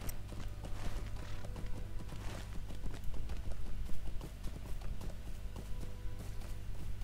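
Horse hooves clip-clop steadily while riding in the video game Lord of the Rings Online, a continuous trotting rhythm over a low ambient hum, no talk.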